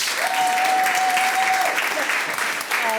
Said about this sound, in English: Another round of applause for Blanche.